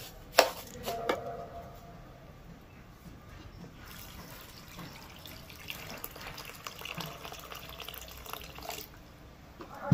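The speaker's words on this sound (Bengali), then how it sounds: "এবার এর মধ্যে দিয়ে দেবো জল।" Water is poured into semolina cooking in a pan, a soft trickling and splashing after a couple of sharp knocks at the start, fairly quiet and close with no talking.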